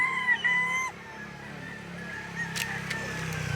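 Talisain gamefowl, regular gray with white legs, heard at a livestock auction market: a few close honking, squawking calls stand out over a steady murmur of crowd noise and auction chatter.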